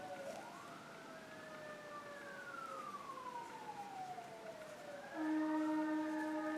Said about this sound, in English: Uh-oh, some sirens in the background.